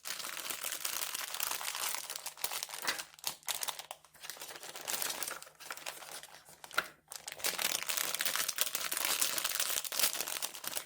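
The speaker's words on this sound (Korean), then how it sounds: "준비된 비누 베이스를 정확하게 4등분 나누어서 종이컵에다가 담아주세요." Pieces of soap base go into a paper cup with continuous close crinkling and rustling of paper, broken by a few short pauses and light taps, and no voices.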